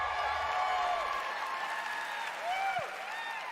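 Audience applause and clapping fill a large hall at the Bethesda E3 keynote, a steady wash of clapping that carries on throughout. Music or a voice rises faintly above the crowd at moments.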